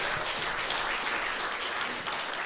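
Audience applause at an evening event in a French-speaking venue, a dense, steady wash of many hands clapping at moderate loudness throughout, with no voices over it.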